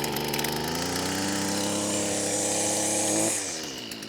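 A small petrol strimmer engine runs after a pull start with the choke on, a loud buzzing whine held at a steady pitch before it drops and winds down near the end.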